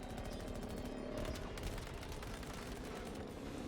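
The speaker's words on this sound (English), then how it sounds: "I hear bullets." Rapid automatic gunfire and bullets in the video game Battlefield 2042: a continuous rattle of shots throughout, somewhat distant and muffled but steady, with no talking over it.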